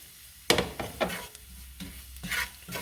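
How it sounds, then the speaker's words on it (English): Flour cooks in oil in a pan for a pork chop gravy, a soft sizzle under several scraping strokes of a utensil stirring at an uneven pace, close and without talk. "You wanna cook your flour in with your oil."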